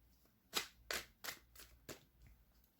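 Tarot cards are shuffled by hand in about five quick, crisp riffling bursts, close and quiet, in a calm indoor setting.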